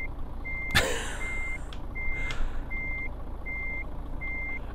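Steady electronic reversing beeps from a Kenworth K100 truck in Euro Truck Simulator 2, evenly spaced pulses over a low engine hum, with a sharp air-brake hiss and a couple of clicks near the start.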